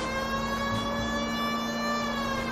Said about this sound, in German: Wofür habe ich diese scheiß Sirene an?